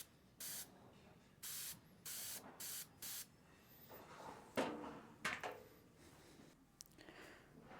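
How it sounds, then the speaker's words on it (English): A Sure Shot 302C nozzle sprays an extra fine mist in several short, sharp hissing bursts of even length, followed by fainter handling clatter and rustle, with no talking. "This is the 302C. This is going to be an extra fine mist."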